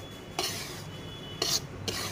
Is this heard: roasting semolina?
yes